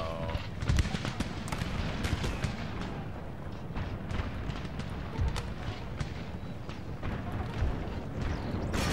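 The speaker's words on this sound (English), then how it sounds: "Howitzer's just holding that center." Howitzer artillery fire in the video game Empire Total War with the Darthmod mod, a steady barrage of booming cannon shots and scattered cracks rumbling across a noisy battlefield.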